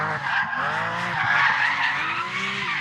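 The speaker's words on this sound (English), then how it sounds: "The car will slide around quite a lot." Tyres on a Porsche 911 GT3 squeal and skid loudly as the car slides around the Anglesey circuit, a sustained, wavering screech over engine noise with no voices.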